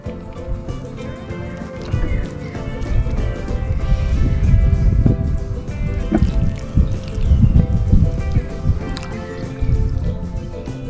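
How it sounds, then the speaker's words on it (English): Heavy watering of newly planted tomato plants, with water pouring and splashing onto soil in a steady, fairly loud, close wash that swells and eases over the clip. "Once the tomato plants are planted, heavy watering follows."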